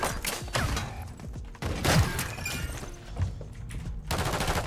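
Sniper rifle fire in a first-person shooter video game comes as several loud, sharp shots with booming tails, mixed with mechanical clicks and thuds from the weapon handling.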